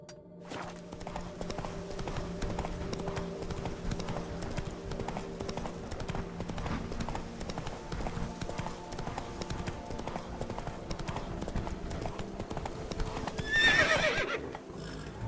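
Roach, the horse in The Witcher 3 video game, galloping: a steady, fast clip-clop of hooves runs throughout at moderate level, with a neigh rising briefly near the end.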